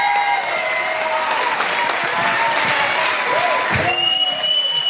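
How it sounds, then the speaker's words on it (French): Crowd applauding a comedian at an open mic comedy show, steady clapping with whistles and cheers on top, while a voice speaks over the noise near the end. "Ah, on peut l'applaudir, 4e show"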